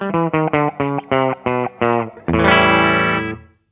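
Electric guitar through a Mooer GE100 multi-effects clean patch plays a run of short, evenly spaced notes, then rings out a full strummed chord that sustains and fades, slightly distorted and loud.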